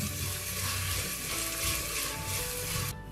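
Onions with cinnamon and cumin sizzle and fry in a pan for a village-style chicken pulao, a steady, close, hissing crackle throughout with no talking.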